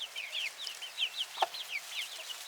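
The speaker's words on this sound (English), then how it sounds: "that one there behind her, and this one I think are roosters." Hens and roosters in a farm barn cluck in soft, repeated chirpy calls, faint and fairly close, with one brief sharper squawk midway.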